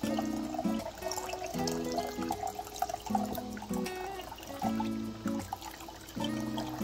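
Liquid poured through a funnel into a canning jar during home canning, a soft, uneven trickle and gurgle in short bursts with pauses, fairly quiet and without talk.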